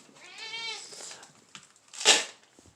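A cat meows clearly while being fed dry cat food, a drawn-out tonal meow followed by a sharper, louder cry, heard close up with faint rustling between.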